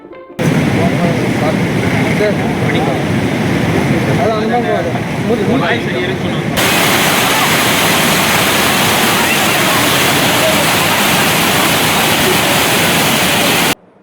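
The Ponnai River rushing with 6,480 cubic feet of water released from the Kalavagunda dam in Andhra Pradesh: a loud, continuous roar of flowing water, steady and broadband, that swells slightly midway and holds to the end.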